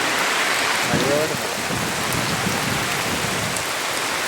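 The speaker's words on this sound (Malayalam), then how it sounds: "പക്ഷെ പെരും മഴയാണ്" Heavy rain falls as a dense, constant hiss of drops, loud and close without pause, with a faint brief voice or squeak early on.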